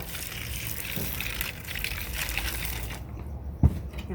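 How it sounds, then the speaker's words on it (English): Water poured into a bowl of dry compost mix of fallen leaves, wood chips and sticks, a steady close splashing and trickling with a soft thud near the end. "now we add some water."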